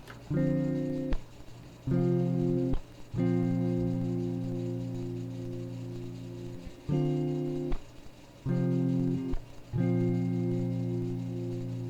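Clean electric guitar chords ring out dry in several separate strummed phrases with short gaps, each left to sustain and decay, with no audible effects.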